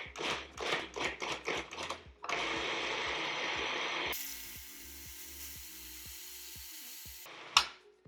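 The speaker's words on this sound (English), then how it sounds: "So I'm about to blend this." A food processor blending tofu and spinach into lasagna filling: several short pulses first, then a sustained whirring puree with a changing pitch partway, ending in a brief clatter.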